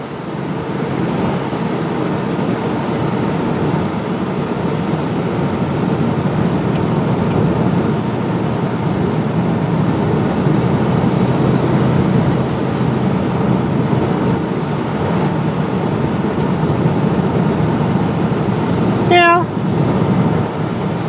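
An RV engine with carburetor problems revs at 4,000 RPM, a loud, steady low drone that holds throughout, with a brief sharp chirp near the end.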